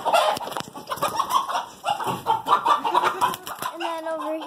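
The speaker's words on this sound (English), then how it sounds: "And then moving on, we've got chickens." Farm chickens clucking in a busy, continuous chorus at close range, with scattered sharper calls and a brief higher-pitched vocalization near the end; faint human voices mix in among the birds.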